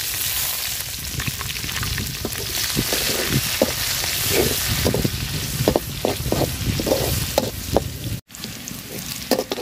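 Chopped onion and green chili sizzle hard in hot oil in a home kitchen pan, a dense continuous crackle with scattered sharp pops and occasional stirring scrapes, close and loud with no talking.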